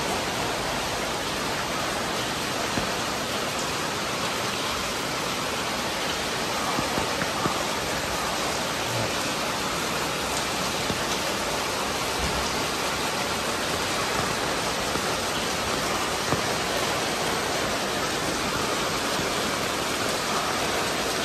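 Steady rain pours onto a flooded city street, a dense, even hiss that holds unchanged from start to finish with no voices.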